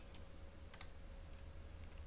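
Soft computer keyboard typing and mouse clicks while changing a resistor value in circuit software, a few quick separate taps close by over a low steady hum.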